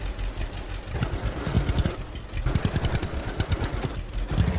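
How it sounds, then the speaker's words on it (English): A tractor engine from a farming simulation game, a Jack Bear C model, idles and churns with a rough, throbbing mid-range drone, fairly quiet and steady with slight pulsing surges. "fix wrong engine sound for Jack Bear C"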